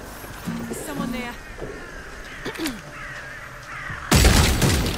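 A crow caws a few times in a video game, set over a quiet ambient backdrop, followed by a sudden loud burst near the end.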